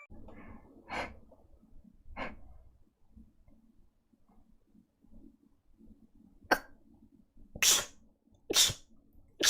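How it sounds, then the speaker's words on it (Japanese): Several sneezes from a streamer, a couple of small ones early followed after a quiet pause by three sharp, loud bursts in close succession, heard up close with faint breathing in between. "くしゃみです。"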